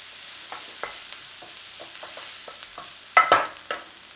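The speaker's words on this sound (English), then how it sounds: "A little stir around." A teaspoon of Italian herbs is stirred into shredded beef in a pan, giving a soft low sizzle under a series of light scraping clicks and a louder scrape near the end.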